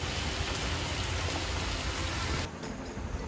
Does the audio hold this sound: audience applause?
no